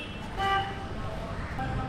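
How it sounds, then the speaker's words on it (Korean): An old Kolkata taxi sounds its horn in street traffic: one short, bright honk near the start, rising above steady road noise. "엄청 올드카 같이 빵빵거려도 이 택시는 귀엽네"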